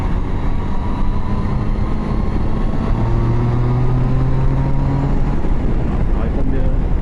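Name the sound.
Triumph Tiger Sport 2016 motorcycle engine revving high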